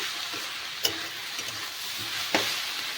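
Meat masala being stirred into cabbage in a hot pan, a steady close sizzle of frying with a few sharp scrapes of the spoon against the pan, and no voices.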